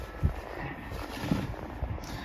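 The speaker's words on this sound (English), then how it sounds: "Oh my god, the wind is so like sharp." Sharp wind blowing outdoors in Canada the day after a snowstorm, a continuous rushing roar buffeting the microphone, with a few low thumps along the way.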